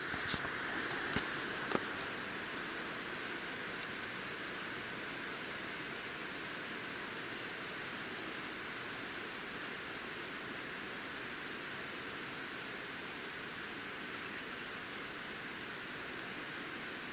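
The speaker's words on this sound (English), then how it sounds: "The rain's starting to come down a bit more heavy." Heavy rain falls continuously with a dense, even hiss, a few sharp drips standing out at the start, steady and enveloping throughout.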